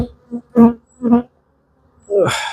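Honeybees buzz around an open hive, their loud, close drone rising and falling in separate bursts as individual bees pass near, with short quiet gaps between.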